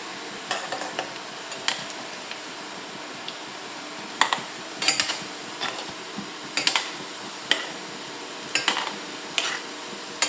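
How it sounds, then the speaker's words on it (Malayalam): Wheat flour snack balls fry in oil while a utensil stirs them, with intermittent scraping, clinking strokes over a steady background sizzle, close and moderately loud, no talking. "നമ്മൾ ഇളക്കി ഒന്ന് ഫ്രൈ ചെയ്താക്കി എടുക്കും കേട്ടോ"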